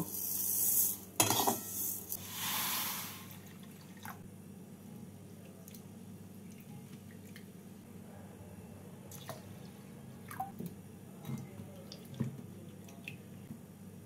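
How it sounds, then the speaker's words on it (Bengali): Wet squishing and sloshing as lentils are rubbed and rinsed in water, with a louder splash early on, then quieter drips and scattered clinks against the bowl. "এবার ডালটাকে নামিয়ে নিয়ে ধুয়ে নেব।"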